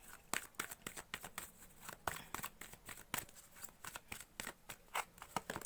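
Tarot cards handled and drawn close up: quick, irregular papery snaps, slides and flicks in a busy stream, fairly quiet, with no talking.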